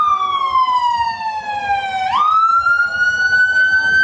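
A fire department siren wails during a Fourth of July parade in Ketchikan, Alaska, its pitch sliding down then jumping back up, heard at moderate distance over faint background traffic.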